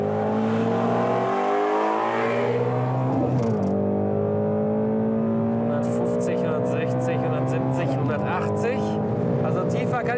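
A Ford Mustang accelerates hard in second gear from 100 to 200 km/h, its engine note rising loudly through the run with voices talking over it.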